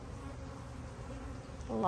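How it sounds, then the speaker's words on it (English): Honey bees buzz in front of their hive along the flight path, a steady low insect drone with a nearby bee briefly louder at the end. "these are some of the bees that are my most vicious ones"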